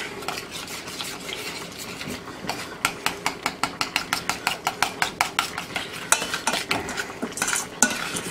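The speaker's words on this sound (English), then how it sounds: "we're just going to stir this up" A utensil stirring a creamed onion mixture in a pot, rapid rhythmic scraping clinks in a steady run of about twenty strokes, close and clear, with no voices.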